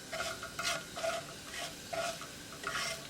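Cumin seeds sizzle in a pot of heating olive oil as a spoon stirs them, making soft continuous frying hiss with regular scraping strokes about twice a second, close and fairly quiet.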